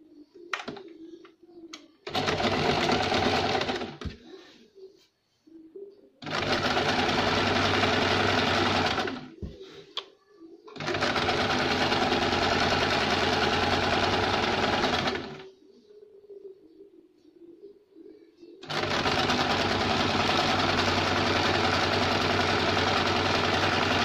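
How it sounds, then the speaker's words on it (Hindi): A sewing machine stitches the seam of a summer umbrella frock in four long, loud, steady runs close by, separated by quiet pauses as the fabric is repositioned. "यहाँ से आधा इंच छोड़ के सिलाई लगाएंगे।"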